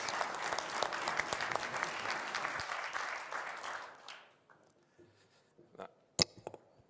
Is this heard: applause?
yes